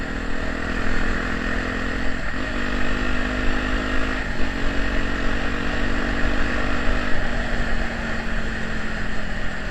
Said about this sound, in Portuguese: o tiro que esse escape dá é muito massa